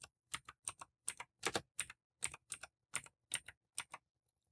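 Someone types a command on a computer keyboard in a quick run of about a dozen crisp, close keystrokes in small irregular clusters, with no voice over them.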